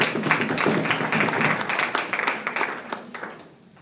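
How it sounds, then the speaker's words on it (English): Scattered clapping from an audience at a high school data meeting, a round of applause that fills the room for a few seconds before thinning out and fading near the end. "I would like to give everybody a round of applause"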